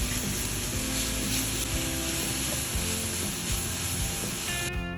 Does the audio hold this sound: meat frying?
yes